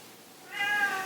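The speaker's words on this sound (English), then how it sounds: "And that's my cat Wobbert in the background" A single drawn-out cat meow, fairly close and clear, rising after a brief quiet moment with no other sounds around it.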